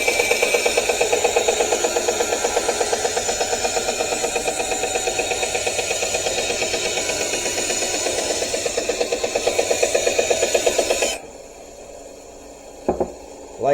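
A bandsaw cuts wood for a Zelda sword, a steady motor whine with a buzzing rasp through the cut that runs for about eleven seconds, then stops abruptly, leaving a quiet room with a couple of brief knocks.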